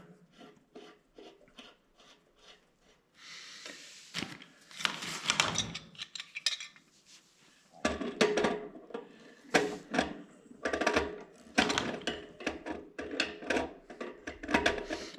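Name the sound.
threading pipe fittings into a water line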